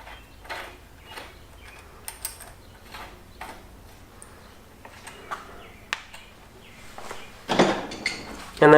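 Tightening a new handlebar bracket on a Schwinn CrissCross bicycle: faint intermittent metallic clicks and ratcheting taps close by, ending in a few louder knocks and scrapes.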